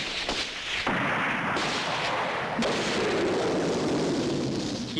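Gunshots ring out in battle, loud booming reports and sharp cracks in quick succession over a continuous roar, with a horse nearby.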